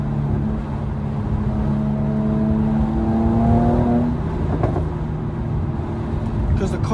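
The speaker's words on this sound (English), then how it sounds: "the car already sounds insane. Like, it's loud. Like, it's crazy loud." A Mercedes-AMG C43 engine drones steadily while being driven through city streets, its tone rising briefly then settling, loud and close throughout with a continuous low rumble.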